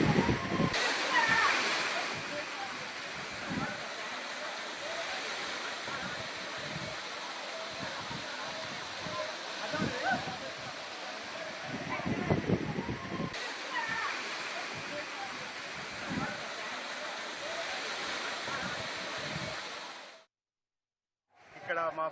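A waterfall cascading down from forested hills at a historic tourist site, a steady broad rush of falling water with splashes, while a person talks over it before it cuts out.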